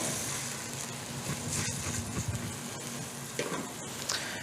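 Chopped onion sizzling in hot oil in a pan, a steady close crackle with occasional stirring scrapes, no talking.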